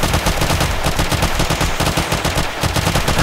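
Sweeping automatic gunfire in 7 Days to Die, loud and close, a rapid unbroken rattle of shots fired continuously with no pauses, filling the scene with dense, harsh bursts.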